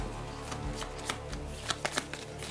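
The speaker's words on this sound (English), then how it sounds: "We shuffle our cards that we have for this battle" Cards for the board game There Grew a Kingdom being shuffled, a run of close riffling and sliding flicks with a few sharper snaps near the end, no speech over it.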